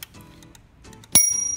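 A single bright metallic bell ding from a 1931 Royal 10 typewriter rings out sharply and lingers, preceded by quiet mechanical clicks and faint clatter.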